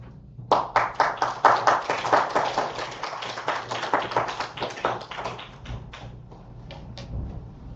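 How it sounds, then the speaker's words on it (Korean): Scattered, fairly sparse clapping from a church congregation welcoming a missionary to the pulpit, individual claps distinct and rhythmic, building briefly then thinning out and fading to a few lone claps. "선교사님 나오실 때 반가운 마음으로 따뜻한 환영의 박수 부탁드립니다."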